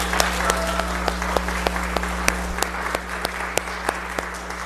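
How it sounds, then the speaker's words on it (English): Congregation applause during a Lutheran church service at Crow River Lutheran Church, sparse clapping with distinct individual claps rising over a constant electrical hum, steady and moderately close. "Let's share a round of applause and let's share peace with one another."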